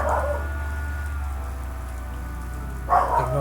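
Two brief yips from dogs barking, faint and a little distant, one at the start and one near the end, over a steady low hum.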